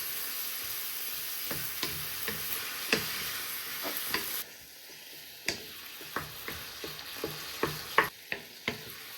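Sloppy joe sauce simmering in a pan while a spoon stirs it, giving sharp intermittent scrapes and clicks over a steady soft sizzle that drops quieter partway through.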